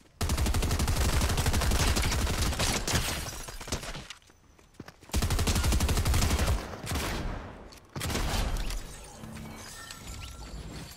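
Rapid gunfire in the video game Fortnite, dense bursts of shots and impacts coming in loud volleys separated by short lulls.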